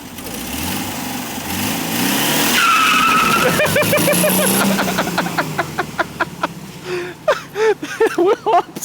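A car skids and spins out, a loud sustained tire screech with engine roar rising and falling, close by, then settling into rapid chirping bursts as the spin ends.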